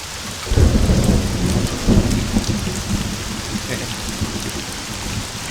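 Rain pours steadily with deep thunder rumbling at about half a second and again near two seconds, then a softer continuous downpour, in the city-building game Caesar IV.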